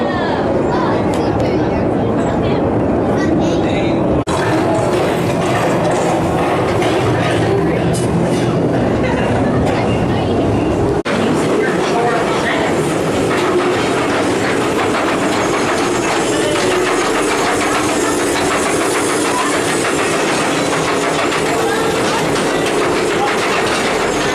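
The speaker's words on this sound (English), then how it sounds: "Time for a ride round on the Calico Mine ride." The Calico Mine ride train at Knott's Berry Farm rumbling and rattling along its track, a continuous loud clatter with people chattering and crowd noise throughout.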